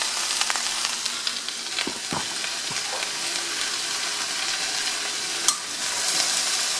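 Cabbage frying and sizzling in a pot for a simple Indian-style dish, a steady close hiss with occasional stirring clatters and a brief sharp clink near the end, no voices.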